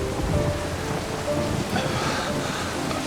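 Steady rain hisses in a movie scene, with a low rumble of thunder beneath the dense patter, continuous and fairly close with no voices.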